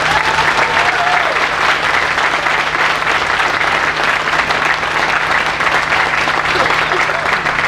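An audience applauds steadily and loudly at an outdoor groundbreaking ceremony for the Lago Casino & Resort, dense clapping that runs unbroken for several seconds.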